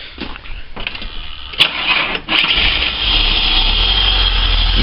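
A cold Holden VS Commodore engine cranks, catches and settles into a loud, rough, unsteady idle that carries on to the end, close up with no talking.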